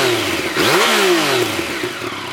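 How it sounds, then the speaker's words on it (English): A 2020 Yamaha MT-09 motorcycle fires up, its exhaust barking into a sharp rev that rises and falls quickly before settling into a rough, loud idle, close by. "to go ahead and start it up to listen to the exhaust, we'll fire it up."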